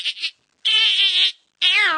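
A voice imitates a cat with diarrhea in three strained, whiny meow-like bursts, short then longer, with a sliding pitch on the last.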